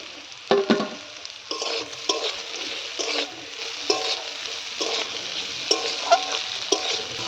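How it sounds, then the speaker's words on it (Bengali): Steady hiss of cashews and raisins frying in hot oil, broken by repeated scraping stirs at a fairly even pace, close and moderately loud. "এর সঙ্গে কয়েকটা কাজু বাদাম আর কিশমিশও ভেজে নেব।"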